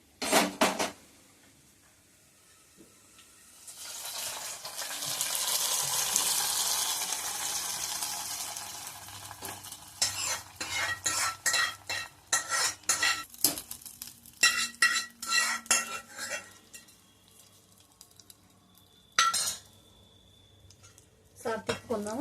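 Fried tempering is stirred into a pot of amaranth dal, with a burst of sizzling hiss followed by clinking, scraping spoon strokes against the metal pot in irregular bursts, close and fairly loud.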